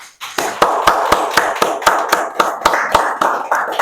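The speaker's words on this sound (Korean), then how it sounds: "박수 한번 쳐드릴까요?" Applause from a church congregation at a worship service: a close, brisk run of sharp hand claps in a fairly regular rhythm, loud and continuous, with no talking.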